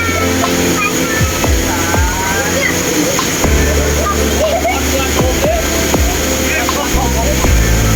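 Haew Suwat Waterfall in Khao Yai, Thailand, running high, roars in a loud, constant rush of water while people talk over it.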